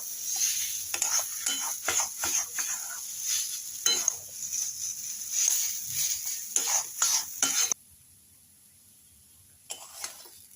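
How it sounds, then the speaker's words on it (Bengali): Dhokar lentil paste stirred in a pan over a raised gas flame, with loud repeated spatula scrapes and knocks over a bright sizzle, going quiet near the end before a brief last stir. "গ্যাসের ফ্লেমটা একটু বাড়িয়ে নিয়ে আমি ধোকার ডালটা ভালো করে নেড়ে নেব।"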